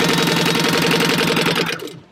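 A sewing machine runs fast and steady, backstitching a fabric slip pocket on a Beauty and the Beast book purse, with a dense close mechanical whir that slows and stops at the end.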